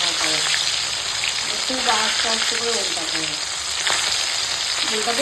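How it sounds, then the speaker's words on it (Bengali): Fish fries in hot oil with a loud, continuous crackling sizzle, while a faint voice murmurs underneath the bubbling throughout. "এখন মাছটা এরকম ভাজা হয়ে গেছে"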